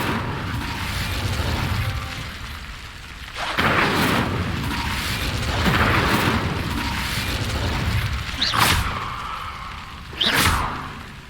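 Incendio fire spells cast in Hogwarts Legacy come as four sharp whooshing bursts, each a booming, explosive flare that rises quickly and fades, spaced a couple of seconds apart over a steady low rumble.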